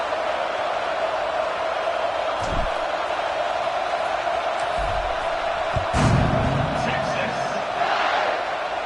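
Steady roar of a stadium crowd in a Madden football video game, a continuous broad wash with brief louder swells and thumps, under speech.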